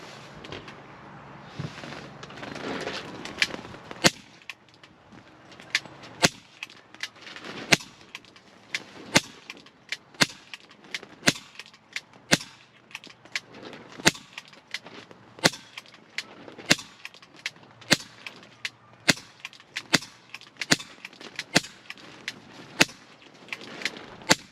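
A Smith & Wesson M&P40 4.5 mm BB air pistol rated at 3.5 joules fires a long series of sharp, close cracks at a steady pace of roughly one per second, each standing out against quiet.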